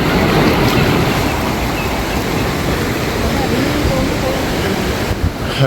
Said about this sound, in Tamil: இங்கே பாருங்க, இந்தா தண்ணி வர வேகத்தை பாருங்க